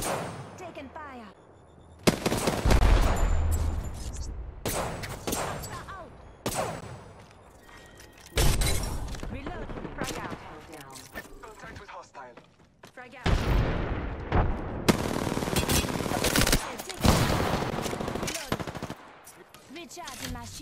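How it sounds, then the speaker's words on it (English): Rapid automatic gunfire from an R-99 and other weapons in the video game Apex Legends, loud bursts starting and stopping over about twenty seconds, with heavy impacts and brief pauses between exchanges. "Taking fire."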